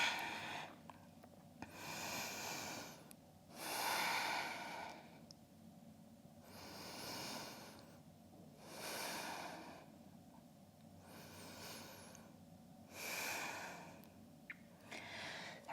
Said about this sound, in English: really reconnect to your ujjayi breath, to slow it down, deepening the inhales and the exhales